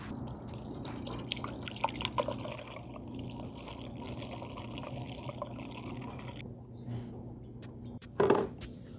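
Cleaner liquid trickles and drips into a car radiator close by, a soft uneven pouring with a louder splash near the end.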